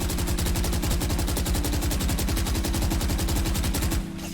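The Phantom rifle from Valorant fires a sustained full-auto spray, with loud, rapid, evenly spaced shots for about four seconds before the burst cuts off.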